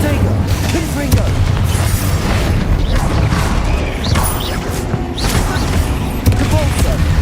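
Spell explosions and impacts from the video game Hogwarts Legacy, a continuous loud barrage of booms and crashes over game music and effects, with a voice speaking over the top.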